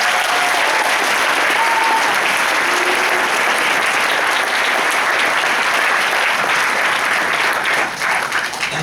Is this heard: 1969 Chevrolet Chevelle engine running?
no